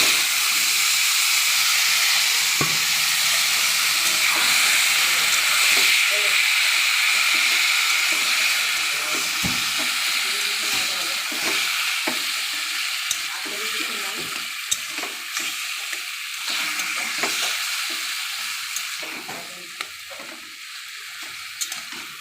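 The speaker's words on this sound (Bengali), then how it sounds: "এবার প্রচুর শাকটা ঢেলে দিয়ে" Black taro greens poured into a hot pan over fried garlic send up a loud, steamy sizzle that slowly settles into softer crackling and hissing, with scattered clicks of stirring over about twenty seconds.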